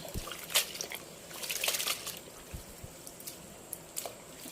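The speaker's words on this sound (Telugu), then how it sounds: "ఎక్కువ వాటర్ తీసుకొని ఇలా శుభ్రంగా కడిగి ఎమ్మట తీయాలి మళ్ళీ" Gongura leaves washed in plenty of water, with soft splashes, drips and squishy sloshing in scattered bursts, fairly close and quiet.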